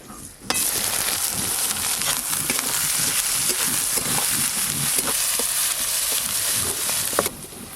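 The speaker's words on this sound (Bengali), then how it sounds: "পেঁয়াজ কুচিগুলো অর্ধেক ভাজা ভাজা হয়ে গেছে" Chopped onions fry in hot oil with asafoetida, bay leaf and dried chilli, a steady loud sizzle that starts abruptly, holds with faint stirring scrapes, then cuts off.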